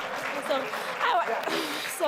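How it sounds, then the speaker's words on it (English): Applause from an audience at a live interactive session with an LGBTQI+ society, heard for a couple of seconds as a fairly steady wash of clapping, with voices and talk mixed in over it. "A round of applause"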